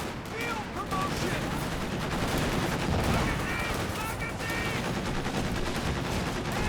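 Infantry support gun and machine gun fire in Company of Heroes 2, busy overlapping battle noise with rattling bursts and booms, moderately loud and continuous beneath commentary.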